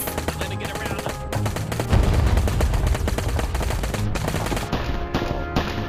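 Dense gunfire in the VR game Plastic Battlegrounds, a toy-soldier war game: rapid machine-gun bursts and overlapping shots crackle loudly and continuously, with brief gaps between volleys.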